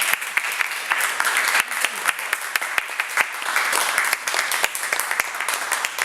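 A sizable audience applauds an author after his reading, dense continuous clapping that stays steady and fairly loud throughout, heard from within the room with no voices on top.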